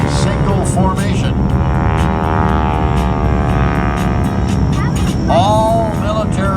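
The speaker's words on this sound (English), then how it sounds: "Unique method for combining 6 separate aircraft back into a single formation." Six military aircraft rejoining into a single formation at an air show produce a loud, steady engine roar that holds throughout, with a rising sweep near the end, all heard from the ground.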